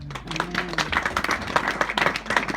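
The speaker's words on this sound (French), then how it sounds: "Acclame pour le Seigneur." A church congregation claps for the Lord during a worship service, scattered then building applause with uneven individual claps, up close, with a few voices briefly rising at the start.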